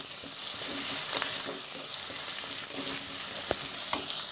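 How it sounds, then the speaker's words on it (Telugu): Thinly sliced onion pieces and curry leaves frying in hot oil, giving a loud, dense, steady sizzle with occasional stirring clicks. "ఇదే నూనెలో సన్నగా కట్ చేసి పెట్టుకున్న ఉల్లిపాయ ముక్కలు వేసుకుందాము"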